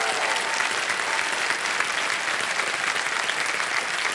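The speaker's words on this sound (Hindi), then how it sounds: "ताली बज जाए इनके लिए।" A studio audience on the KBC quiz show set breaks into steady, dense applause that fills the room at full volume for about four seconds without a break.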